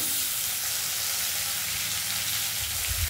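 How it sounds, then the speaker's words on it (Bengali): Tomatoes frying in hot ghee and oil for a vegetable dal, a steady, loud, close sizzle that runs unbroken throughout, with no voices. "তো এগুলো মা এবার এর সাথে ভেজে নেবে। প্রথমে দিচ্ছে টমেটো,"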